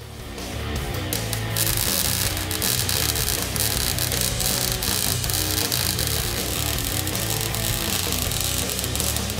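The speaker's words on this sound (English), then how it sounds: "Now that we're done welding the subframe connector" A Maximum Motorsports subframe connector is MIG welded to the frame rail of a 1979–2004 Mustang, producing a continuous loud buzzing crackle that holds steady from start to finish.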